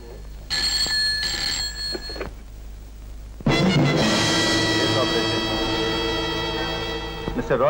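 A telephone rings in two bursts of electronic tones, then a louder, sustained ringing tone fills the rest, close and insistent.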